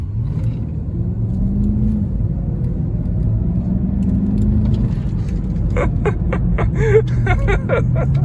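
An Infiniti FX50 Sport crossover accelerates on a road, heard from inside as a rising engine note over steady road rumble, with some clicking and rattling near the end.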